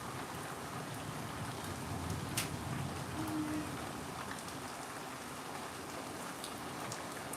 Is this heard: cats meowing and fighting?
no